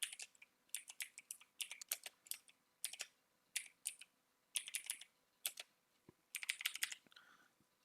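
Clicking keystrokes on a computer keyboard come in quick irregular bursts separated by short pauses, crisp and close but fairly quiet, with no talking.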